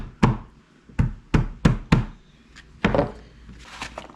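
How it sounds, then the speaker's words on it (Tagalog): Ginger being crushed by hand in a kitchen, a series of sharp, close thuds in an uneven rhythm, about seven heavy pounding strikes followed by softer taps. "Mas masarap kasi pag dinudurog mo ang luya."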